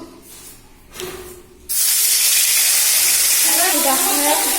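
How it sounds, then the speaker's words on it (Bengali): Fish rubbed with turmeric and salt drops into hot oil and bursts into a loud, steady sizzle that continues without a break. Just before, there is quieter kitchen noise. "তেলটা গরম হয়ে গেছে মাছ দিয়ে দেবো"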